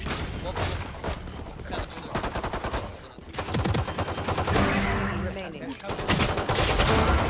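Rapid pistol shots from a CZ in Valorant crack out in quick bursts, loud and dense, with other game effects and players talking over the firing.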